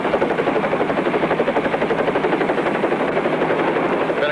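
Helicopter 3A Bravo flying in high, gusty winds, its rotor giving a loud, steady rapid chop that throbs evenly and continuously throughout, close and unbroken, with no voices over it.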